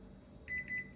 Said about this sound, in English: You will get 2 beeps acknowledging that function.